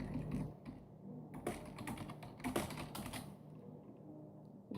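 Typing on a computer keyboard while writing out example text for a digipack design, with irregular bursts of close key clicks and pauses between them, no talking.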